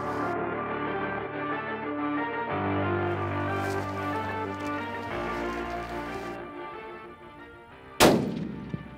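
Rifle shot fired at a red lechwe on a safari hunt, a single loud sharp crack near the end, following a stretch of steady tonal background sound.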